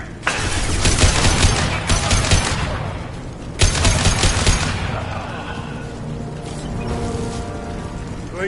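Rapid bursts of gunfire from Blue Suns mercenaries and Vorcha in Mass Effect 2, loud and sustained with dense volleys, a brief lull around three seconds, then more shooting tapering into mechanical clatter.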